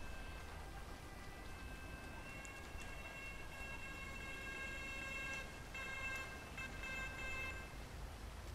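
An ambulance siren in the Stockholm Emergency services video game wails with a steady, faint, tonal pattern over a broad background hum, with no talking.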